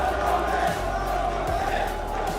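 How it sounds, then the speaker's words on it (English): Home crowd of Falcons fans and Tundra supporters roaring through a Dota 2 esports semi-final arena, a steady dense wash of cheering and shouts with low thumps, loud and continuous. "there is a lot of people who are cheering for Tundra against this home crowd of Falcons"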